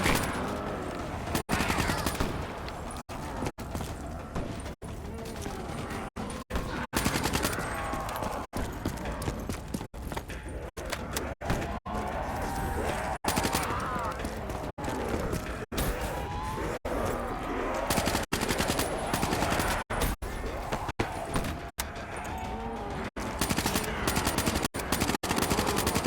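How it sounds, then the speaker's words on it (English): Rapid automatic gunfire from Call of Duty Black Ops 3 rattles almost nonstop, dense bursts of shots running one into the next, loud and sustained with game noise filling the gaps. "Why am I shooting my teammate?"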